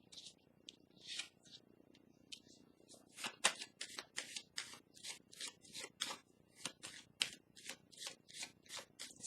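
Tarot cards are shuffled close by in quick, crisp riffling bursts that grow into a steady rhythmic series of sharp flicks, fairly quiet, with no voice over them.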